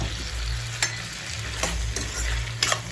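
Tomato pizza sauce bubbles and sizzles in a pan on a griddle stovetop as a spoon stirs it, scraping strokes recurring every second or so over a steady close frying hiss.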